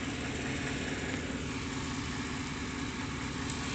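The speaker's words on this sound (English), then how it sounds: "Seems to be like a knocking noise in the engine." The 350 engine of a 1993 Chevy van, which has a knocking fault, idles with a steady low rumble and faint repetitive pulsing, close and continuous, with no talking.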